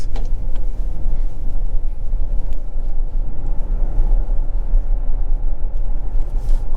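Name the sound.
2023 Toyota bZ4X electric SUV driving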